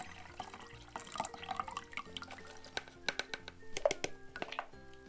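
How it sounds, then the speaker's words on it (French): Red cabbage water being filtered at home, with close, quiet trickling and irregular drips and small splashes of liquid falling into a container. "on va pouvoir filtrer l'eau"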